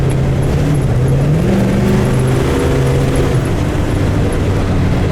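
A 1969 Chevelle SS with a numbers-matching rebuilt 396 V8 and Turbo 400 transmission rumbles steadily while driving, its deep engine drone rising in pitch as it revs, loud and close with no talking.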